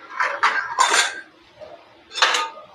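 Grated carrot tipped into a pan of softened onions and stirred in, giving a few bright metallic scrapes and clinks of a spoon against the pan in quick bursts, close by with no talk.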